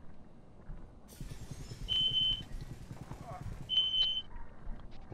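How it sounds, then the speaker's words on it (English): A fire alarm in Call of Duty: Modern Warfare sounds two sustained electronic tones in a row, under ongoing talk and game noise. "What is that sound? Don't know. Fire alarm"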